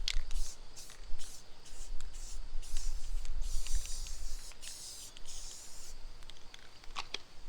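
An aerosol spray paint can hisses outdoors in a series of short and longer bursts as it is used to paint an alien landscape, with wind rumbling underneath and small handling clicks between sprays.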